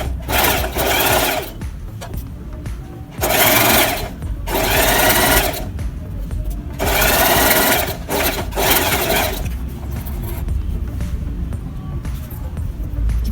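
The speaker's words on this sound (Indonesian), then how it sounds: "Kemudian kita jahit sesuai garis polanya tadi." An electric sewing machine stitches a fabric seam along a marked pattern line, running in several loud, steady bursts of rapid mechanical whirring separated by short pauses, with no talking.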